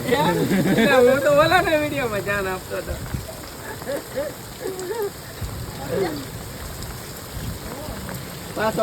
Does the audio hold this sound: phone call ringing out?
no